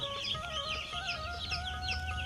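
Broiler chicks in a shed chirp continuously, many thin high peeping calls overlapping at a moderate, fairly close level with no talking.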